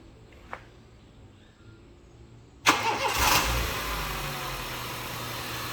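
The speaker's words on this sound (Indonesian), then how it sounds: "Coba kita nyalakan dulu untuk mesinnya, Mas Adam." A used car in an Indonesian used-car lot cranks and starts abruptly after a quiet lead-in, then settles into a loud, steady idle close to the microphone with no talk over it.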